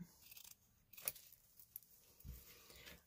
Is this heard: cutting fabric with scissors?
yes